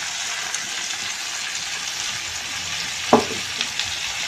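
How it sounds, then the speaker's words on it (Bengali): Chicken sautés in a pan with a paste of ginger, garlic, green chilli and onion, producing a steady close sizzle with soft stirring and one sharp utensil clack partway through. "এবার মশলাটার সঙ্গে ভালো করে কষাবো"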